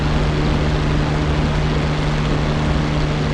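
A P-51D Mustang propeller aircraft in flight with an instructor, its engine a loud, constant close droning roar with a steady low hum that fills the whole stretch without a break.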